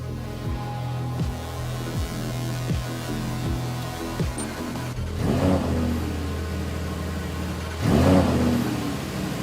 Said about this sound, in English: And then, the V10 of the Huracan is allowed to roar for the first time.